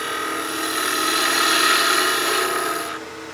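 A skew chisel's long point makes a planing cut on a wood lathe, shaving a small wooden birdhouse ornament with a steady, close rasping hiss that holds for about three seconds and then drops away, with no talk.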